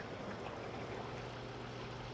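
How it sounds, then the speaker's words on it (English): Water drains out of a 300-gallon African cichlid aquarium, pumped out through an FX6 canister filter. It makes a steady, low, continuous rushing and trickling. "Let's go ahead and drain some water out of the tank."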